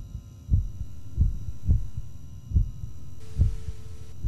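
Steady heartbeat in the horror game Inside the Backrooms, roughly six deep low thumps at an even pace, fairly loud and alone over a faint hum, with a brief hiss joining near the end.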